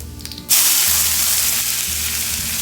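Fennel, cumin, ginger and garlic drop into hot oil with a sudden loud burst of sizzling that settles into a steady, close crackle, following a short quieter stretch.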